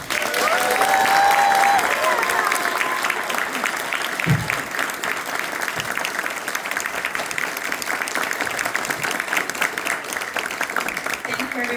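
An audience at a school board swearing-in ceremony welcomes a new member with sustained, steady clapping that fills the whole span, loud and dense, with a few voices mixed in.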